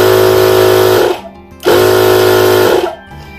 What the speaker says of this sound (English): Now this is press and hold for the compressor to run.